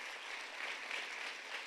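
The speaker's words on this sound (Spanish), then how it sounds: "que le aplauda a Dios fuerte" A church congregation applauding during a Spanish-language sermon, a continuous wash of many hands clapping at moderate distance, steady and unbroken throughout.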